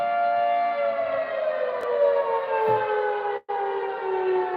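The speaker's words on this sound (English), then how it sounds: "6 o'clock whistle if you hear that noise in the background." A town's 6 o'clock civil defense siren wails steadily and loudly as a sustained harmonic tone, with one brief dropout near the end and no talking.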